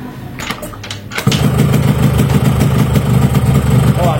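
A motorcycle engine with an oversized piston, ported cylinder and high compression, plus a noise in the block, catches and settles into a loud, close, rapid, lumpy idle with steady firing pulses.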